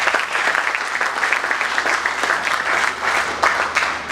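Audience at a professional and entrepreneurship leadership event gives a sustained round of applause, dense overlapping hand claps filling the room at a steady level throughout.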